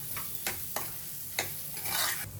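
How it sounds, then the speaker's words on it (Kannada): Onions stir-fried in a pan for upma, giving a steady sizzle with several sharp scraping stirs of a spatula, close and moderately loud, with no talking. "ಇದು ಚೆನ್ನಾಗಿ ಫ್ರೈ ಆದಮೇಲೆ ಈರುಳ್ಳಿ ಹಾಕೋಬೇಕು ಇದು ಕೂಡ ಫ್ರೈ ಮಾಡ್ಕೋಬೇಕೀಗ"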